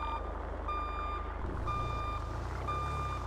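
Repeated vehicle reversing beeps in GTA, steady tones pulsing about once a second over a low, continuous truck engine rumble, with no talk.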